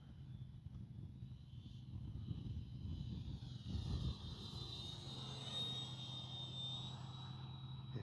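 Faint whine of an RC F8F Bearcat warbird model plane engine passing overhead, rising and fading in pitch against light wind noise.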